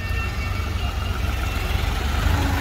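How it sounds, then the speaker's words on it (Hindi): New Holland tractor working with a scraper runs close and loud, its engine holding a steady low rumbling drone throughout. "तो अब न्यू हॉलैंड की परफॉर्मेंस दिखाऊंगा स्क्रैपर पर, कैसा परफॉर्म करता है हाई के पहले में और ट्रैक्टर कैसा चल रहे हैं।"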